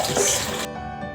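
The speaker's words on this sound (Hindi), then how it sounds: "और अब इसमें और पानी हम ऐड कर देंगे" Water poured from a tap into a cooking pot for kadhi, a steady loud hissing splash that cuts off abruptly partway through, close by.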